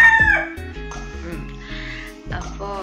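A rooster crows in a long, drawn-out call near the start, then fowl cluck and murmur over a busy, tonal background of music or voices that continues throughout the short stretch.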